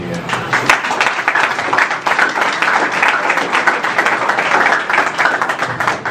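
Applause for a faculty member at a university ceremony, sustained and fairly loud with many hands clapping together across the whole stretch, some crowd voices mixed in.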